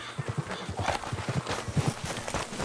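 A horse walks with a steady clip-clop of hooves in the video game Red Dead Redemption 2, the rhythmic thuds moderately close and fairly quiet, with no talk over them.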